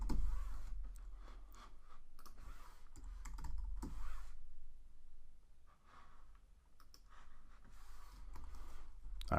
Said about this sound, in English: I'm just going to type in the word fold